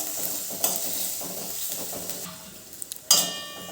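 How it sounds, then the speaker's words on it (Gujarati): Onions sauté in a pan over a low gas flame, giving a steady close hiss of frying with soft scraping stirs. A few sharp utensil clinks come near the end. "હવે એને આપણે ગેસની ફ્લેમ સ્લો રાખીને સાંતળી લેવાની છે, ડુંગળી થોડી ટ્રાન્સપરન્ટ થાય ત્યાં સુધી એને શેકવાની"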